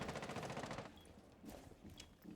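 Rapid automatic gunfire from Rainbow Six Siege rattles in a quick burst for under a second, followed by a few scattered, fainter shots and clatters in a quiet room.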